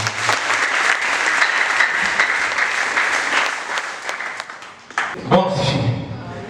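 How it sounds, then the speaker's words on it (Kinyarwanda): A church congregation applauds loudly and steadily as a sustained burst of clapping, which fades toward the end as voices begin. "Twakomeye Imana amashyi ku Mana."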